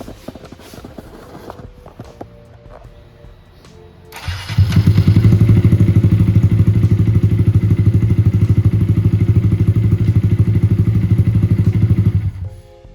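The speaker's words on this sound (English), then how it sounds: "we do a sound check of the new intake" A Honda Grom motorcycle with a new intake sits quiet at first, then its engine starts around four seconds in and idles loudly and steadily up close, a continuous throbbing drone with a slight rise in revs before it shuts off near the end.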